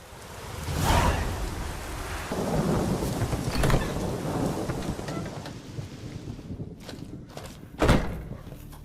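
Thunderstorm with steady rain in The Witcher 3, rolling thunder peals and sharp cracks over continuous rainfall, with a loud close thunderclap near the end.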